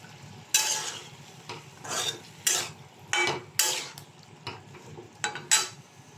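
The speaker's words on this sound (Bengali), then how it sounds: "ডাঁটা আলু দিয়ে একটু মশলাটাকে মাখিয়ে" Stalks and potatoes are stirred into spiced rohu fish curry in a pan with repeated scraping strokes at a steady pace over a low sizzle. No voices.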